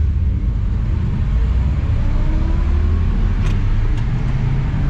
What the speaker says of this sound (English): And then there's a car behind us, so there's a few out.